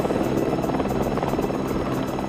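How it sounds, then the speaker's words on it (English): Helicopter flying low in strong wind over a smoky wildfire, its rotor chop a loud, steady rhythmic thumping that stays close and continuous, with no voices. "It seems insane to fly a chopper in this wind."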